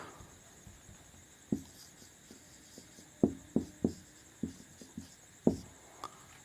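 Chalk or marker on a classroom board makes scattered taps and short scratchy strokes in an uneven rhythm, close and fairly quiet, with no voice.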